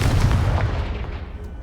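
A Confringo blasting spell explodes in the Hogwarts Legacy video game: a loud, deep boom with a heavy low rumble that fades out over about a second and a half.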